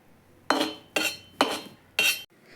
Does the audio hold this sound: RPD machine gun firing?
no